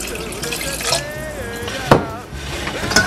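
About three quarters of a cup of water pours into a pot of crawfish etouffee with cream of mushroom and celery soup, a close, continuous trickling splash with a brief louder gush partway through.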